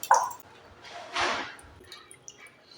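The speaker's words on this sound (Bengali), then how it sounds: "বারবার জল পাল্টে পাল্টে আমি চিকেনটা আমি ধুয়ে নিচ্ছি ভালোভাবে" Raw chicken being washed in water with the water changed repeatedly, a few short wet squishes and drips close by, separated by quiet gaps.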